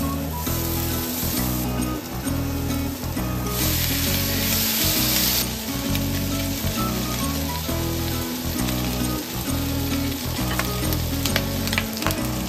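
Onions sauté in a pan with a loud, continuous sizzle and crackle, stirred now and then, up close and without talk.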